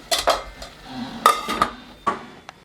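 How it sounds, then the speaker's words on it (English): Chickpeas in a metal pot are stirred with a spoon, giving a few sharp scrapes and knocks against the sides, and then the lid clatters back on. The clinks come in short separate bursts, close and fairly loud, with no talking. "I'm going to stir them and put the lid back on"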